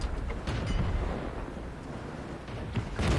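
KV-1 tank cannon firing in a video game, heavy booming blasts with rumbling low end, a couple of strong shots near the start and one at the end, no talking.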